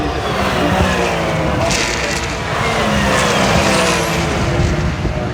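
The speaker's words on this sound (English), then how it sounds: "we got McLarens on track and some AMGs, some Porsches" McLaren, AMG and Porsche race cars run on a track during a GT World Challenge America event, a loud, continuous engine roar from passing cars with a brief rising whine near the end.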